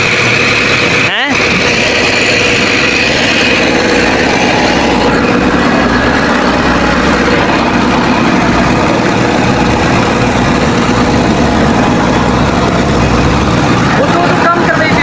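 An excavator engine drones loudly and continuously at a village work site where a tractor trolley is being loaded with soil, with a brief knock early on and voices talking over the steady rumble.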